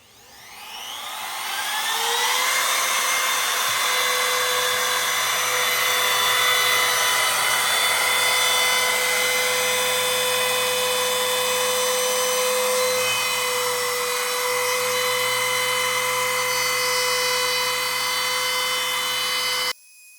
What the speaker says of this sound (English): I'll be using a router.